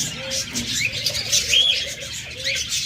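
A pair of green-cheeked conures at a bird sale gives short, sharp calls and chirps close by, in quick irregular bursts over low background noise.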